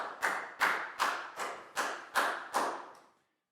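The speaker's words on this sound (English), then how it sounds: "Big round of applause for Lakgao." A classroom of Year 4 pupils claps for a classmate in seven rhythmic, evenly spaced bursts, close and fairly loud, then stops, with no talking over it.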